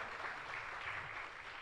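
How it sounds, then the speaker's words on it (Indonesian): Applause from a church congregation during a worship service, a broad steady wash of clapping that runs the whole moment, fairly distant and even in level. "Beri tepuk tangan yang meriah buat Tuhan."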